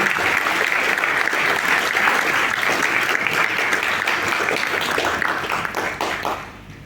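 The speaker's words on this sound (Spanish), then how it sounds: "aplauso" A large audience gives a loud, dense round of applause at the close of a medical imaging course on magnetic resonance, steady massed clapping that fades out near the end.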